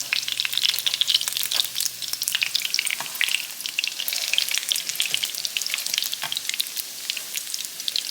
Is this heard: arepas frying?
yes